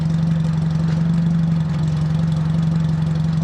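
Fiat Panda 4x4 Sisley engine idling smoothly and evenly, a steady low hum with the exhaust close by and no talking.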